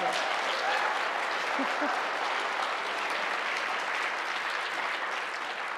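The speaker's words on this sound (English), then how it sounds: "yes, clap for Rose, that's good" An audience at a college awards ceremony applauds in a steady, sustained roar of many hands, while a voice briefly speaks over the clapping.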